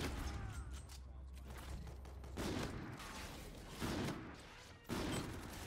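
Gunfire from the Call of Duty Infinite Warfare video game, with several loud bursts of game weapon fire and booms over a steady background, faint talking underneath.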